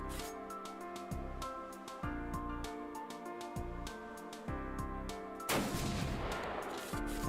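Gunfire in the shooter Beyond Citadel: a steady run of sharp, evenly spaced shots over a droning musical bed, closing in a louder, denser burst of crackling fire.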